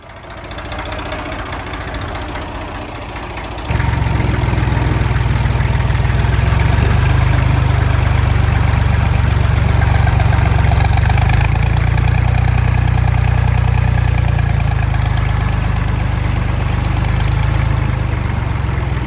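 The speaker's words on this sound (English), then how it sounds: "Here the tractor is lifting the 2 drums of oil effortlessly" A Ford 1900 tractor's heavy diesel engine idles steadily and close by while lifting two drums of oil, its low rumble stepping up louder partway through, then holding a constant throbbing drone.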